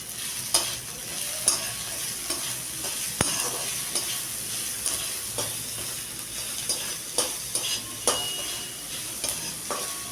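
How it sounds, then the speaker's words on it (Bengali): Sliced onions sizzle steadily in a hot pan with a pinch of salt, a continuous crackling hiss broken by regular scraping taps of a spatula stirring against the metal, close and without any talk. "পেঁয়াজটা ভাজতে ভাজতে একটু নুন দিয়ে দিই"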